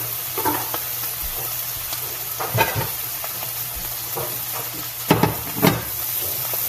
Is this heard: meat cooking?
yes